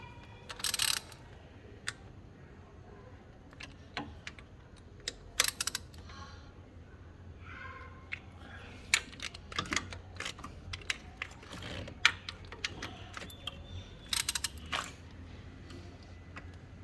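A 12 mm socket tightens a bolt on a Toyota 2GR-FE engine in an Alphard 20 series during a valve cover gasket job, giving sharp, sporadic clicks and ratcheting taps against a quiet background.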